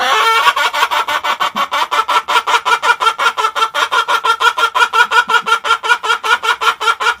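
A chicken clucks as a sound effect in a steady, rapid rhythm of short clucks, loud and close, with no other sounds.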